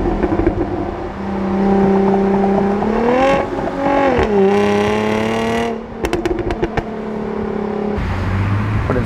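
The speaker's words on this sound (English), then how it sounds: "It makes a good like burble on downshifts" Jaguar F-Type base convertible engine and exhaust rising and falling through shifts, with harmonic revving sweeps, a burst of sharp crackles near the end, and steady road noise throughout, fairly loud and close.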